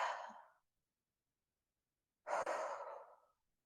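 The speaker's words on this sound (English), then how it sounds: "And breathe." Slow breaths during a seated yoga twist in a gentle Hatha practice: a soft exhale fading out, a silent gap, then a fuller audible inhale and exhale, close and unaccompanied.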